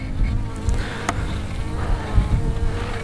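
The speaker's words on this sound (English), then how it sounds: "The inside, all covered with bees." Honey bees buzz steadily around an open nucleus colony hive, a close, continuous drone with a few louder passes near the listener.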